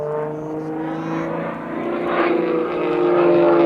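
An Extra EA-330 aerobatic aeroplane drones overhead at Sywell Airshow, its propeller engine holding a steady buzzing tone that swells louder toward the end as it pulls through manoeuvres.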